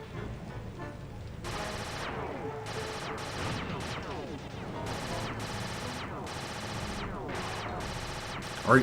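Turret gunfire in the PS2 game Sly 2: Band of Thieves, with dense rapid bursts of shots and crashes in repeated volleys at steady loudness, plus a brief sharp hit at the end.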